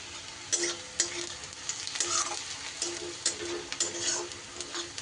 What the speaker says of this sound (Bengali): এদিকে পেঁয়াজ আর রসুনটা কিন্তু আমার বেশ বাদামি বাদামি করে ভাজা কিন্তু হয়ে গেছে